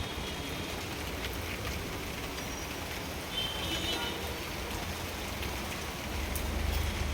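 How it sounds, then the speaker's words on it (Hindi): Steady rain falling in Bangalore during the day, a continuous dense patter on surfaces close by. The hiss stays even throughout with a slightly heavier swell midway, and no voices are heard. "मैं आपको दिखाती हूँ बारिश।"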